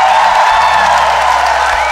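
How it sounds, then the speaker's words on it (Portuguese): A church congregation at a Pentecost service applauds and shouts joyfully, a dense wash of clapping and cheering voices, loud and steady for a brief moment. "Se for Pentecostes, aplauda e grita com alegria."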